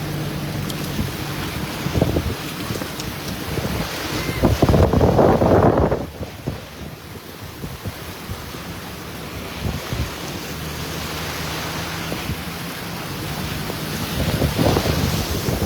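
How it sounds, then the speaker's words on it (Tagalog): Strong wind and rain roar during a flood in Masantol, Pampanga, a continuous loud rushing with heavy buffeting gusts on the microphone and a surge of splashing water midway. "sobrang lakas ng hangin at ulan dito sa Masantol, Makabebe"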